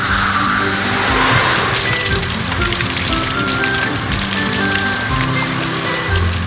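A toy fire truck sprays water onto a fire, giving a steady, dense hiss of spraying and splashing that runs loud and unbroken throughout, with no voices.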